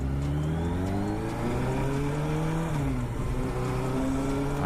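Motorcycle engine with a sticking throttle revving on a wet road, a loud close steady drone whose pitch rises and dips slightly, with no talk over it.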